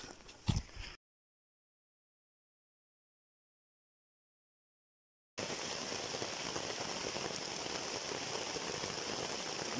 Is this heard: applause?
no